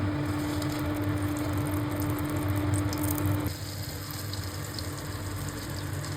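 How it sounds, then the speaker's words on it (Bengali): Soybean oil and a pat of Amul butter heating in a pan for dal tadka, a steady close sizzle and fry that drops slightly in level partway through, with no talking. "2 থেকে 3 চামচের মতন সয়াবিন অয়েল দিলাম, সাথে 1 টিক্কি আমুলের বাটার দিলাম"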